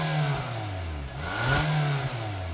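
A 2020 Nissan Versa SR's 1.6-liter four-cylinder engine revs up and down in two quick swells, its mid-pitched drone rising and falling close by with no talking.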